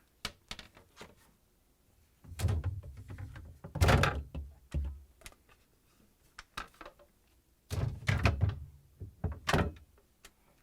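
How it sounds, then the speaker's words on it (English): Shelves and drawers being lifted out of an LG/Kenmore refrigerator, giving a series of hollow plastic thunks, knocks and clatters, with louder bursts of handling around the middle and near the end, close by and without talk. "Lift up the front portion of the shelf and release the rear hooks."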